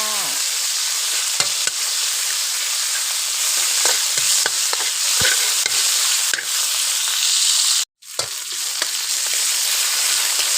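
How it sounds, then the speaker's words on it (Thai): Steady, loud sizzling of water spinach stir-frying in a hot pan with oil, garlic and pork, with scattered clicks and scrapes of a utensil and a brief dropout near the end. "ผัดผักบุ้งกินง่ายๆค่ะ"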